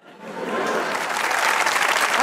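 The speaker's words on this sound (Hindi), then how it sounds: "तुम लोग किन चीजों में तालियां बजाते हो" A studio audience on a comedy talk show breaks into applause, which starts quickly and holds as a dense, steady clapping that fills the space.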